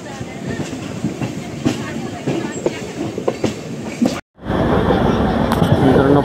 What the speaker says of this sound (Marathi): कल्याणवरनं आपली ट्रेन निघालेली आहे आता